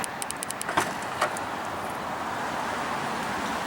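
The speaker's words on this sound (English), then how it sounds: "And the trunk lid does lift all the way up for you." Power trunk lid of a 2015 Maserati Ghibli lifting open: a few light clicks and latch taps, then a steady, soft motorized whir that holds to the end, close by and fairly quiet.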